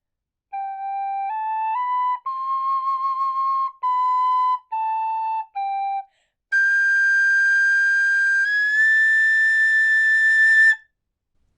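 A tin whistle plays the Braveheart Freedom theme slowly, with a run of held notes stepping up and down, a short pause, then a sustained high phrase sliding upward, clear and alone.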